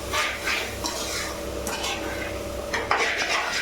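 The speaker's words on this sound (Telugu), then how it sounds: "ఇది మొత్తం మంచిగా కలపాలి." Puffed rice upma with sambar powder and masala being stirred in a pan, a steady scraping and rustling of the spoon against the metal with light sizzling underneath, close and continuous with no talking.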